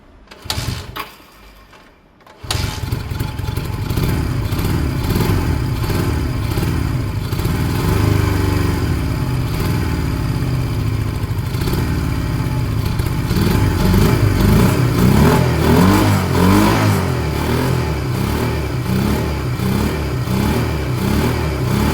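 A project vehicle's engine cranks after a short quiet stretch, then runs at a steady, loud, close idle that sounds slightly uneven. Sharper revs come through near the end. No one speaks.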